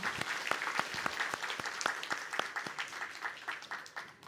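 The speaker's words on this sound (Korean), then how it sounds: "박수로 환영하도록 하겠습니다." Church congregation applauding during a Sunday morning worship service to welcome a new choir member, a steady run of claps with a few strong individual hits, fading slightly toward the end.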